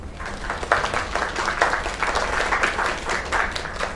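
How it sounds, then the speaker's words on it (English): Audience applause in a video game scene, a dense crowd clapping at moderate volume with irregular bursts that rise and fall across the whole stretch. "Another round of applause."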